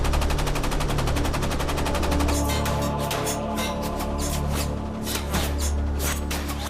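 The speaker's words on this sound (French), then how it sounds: "L'Hayasaki tire sur le Growler avec toutes les mitrailleuses dont il dispose." Ship's machine guns firing at the submarine Growler, a dense, continuous loud clatter of rapid bursts filling the whole stretch with no speech.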